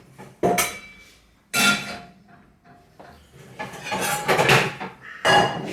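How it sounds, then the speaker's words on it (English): A saucepan is pulled out and handled in a home kitchen, giving several loud bursts of metallic clattering and clinking with quieter knocks between them. "Saucepan to cook the rice in."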